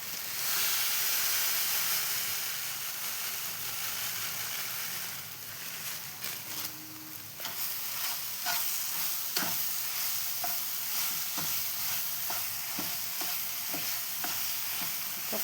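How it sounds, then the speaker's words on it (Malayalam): Banana and sugar sauté in ghee with a constant sizzling hiss and steam, joined midway by repeated spoon scrapes and taps against the pan, close and without talk. "നെയ്യിലാണല്ലോ നമ്മൾ പഴത്തിനെ വഴറ്റിയെടുത്തത്"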